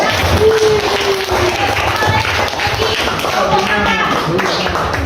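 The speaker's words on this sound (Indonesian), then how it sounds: "tepuk tangan buat ibunya" A classroom group claps for a female teacher during a lesson, a brief burst of scattered hand claps mixed with voices talking over it, close and fairly loud.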